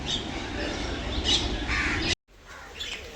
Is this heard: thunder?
no